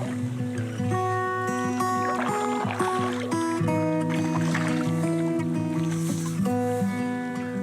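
A canoe is paddled on water on a spring trip in the Nordic wild, with soft water sloshing and paddle strokes mixed under a steady layer of tonal background music.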